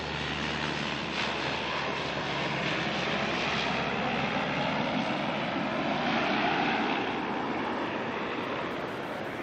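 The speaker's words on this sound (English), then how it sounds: "This little dash is NZ5160 coming in from Gizzy." A Dash 8 turboprop airliner arriving at Auckland Airport from Gisborne, its steady engine and propeller roar sustained and loud throughout, swelling slightly near the end as it passes close.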